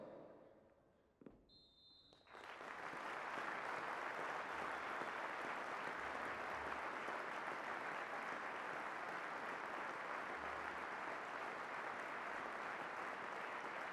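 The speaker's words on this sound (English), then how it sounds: "please do join us in a minute's applause to honour his life" A stadium crowd at a football match holds a minute's applause to honour Frank Kopel. After a brief quiet start, a massive, continuous roar of clapping swells up and holds steady at full volume, distant and dense.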